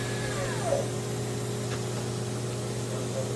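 Spindle 1 of a 2018 Citizen Miyano BNA-42S2 CNC lathe spinning at 2,500 RPM, a steady machine hum with a faint whoosh and a short falling whine near the start, no talk.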